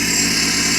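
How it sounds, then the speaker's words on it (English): A Seat Ibiza from around 2010 to 2011 with a sports exhaust, idling with a steady, dense rumble and hiss close to the tailpipe, no talking. "Listen to this exhaust."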